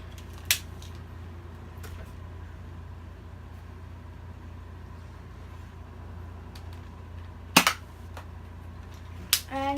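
An X-Shot Bug Attack Predator toy blaster fires a few sharp, isolated snapping shots, spaced seconds apart, against a quiet low background hum.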